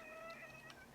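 A cat gives a single short, faint meow lasting about a second, heard quietly on its own.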